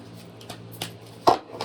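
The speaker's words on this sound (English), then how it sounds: "And when you shuffle, you pull from the base of the deck." Tarot cards being shuffled, heard as a few soft, scattered papery taps and riffles, with one sharper snap near the end, fairly close with no talking.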